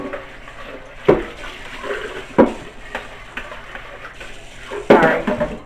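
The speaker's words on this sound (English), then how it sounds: "I had to rinse it out" Tap water rinses out a bowl in a kitchen after straining yogurt whey, a steady running stream broken by several sharp splashes and clatters as the bowl is swirled under the faucet.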